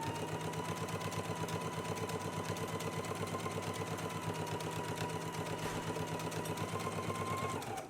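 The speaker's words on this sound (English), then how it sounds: "let's go ahead and stitch using a 5/8 of an inch seam allowance all the way along the collar" A sewing machine runs a 5/8-inch seam along the collar band of a girls' and misses' dress (pattern ME2133), giving a steady, close, continuous mechanical whir and rapid needle rhythm for the whole stretch, with no talking.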